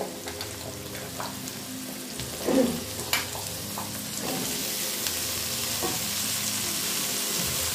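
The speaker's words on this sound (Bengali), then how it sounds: "আলুগুলোর সঙ্গে পেঁয়াজটা ভালো করে ভেজে নেব" Chunked potatoes and onions fry in a pan, a steady low sizzle running throughout with a few brief stirring scrapes and knocks, close and moderate, no voices.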